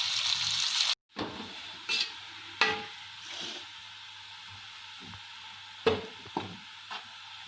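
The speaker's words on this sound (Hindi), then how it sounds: "प्याज डालेंगे। प्याज को लाइट ब्राउन" Onions fry in hot oil until browning, giving a close, steady sizzle broken by a sudden cutoff and several sharp clinks and scrapes of stirring.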